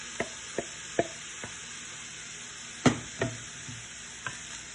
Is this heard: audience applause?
no